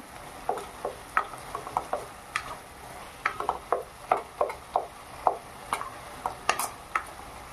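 Khapra greens and potatoes stirred in a pan, a string of sharp, close scraping and clattering strokes in an irregular rhythm over a faint background sizzle, with no speech.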